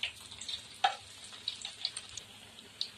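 Onion garelu, lentil fritters, frying in hot oil: faint, sparse crackles and small pops over a soft, steady bubbling hiss, with no voices.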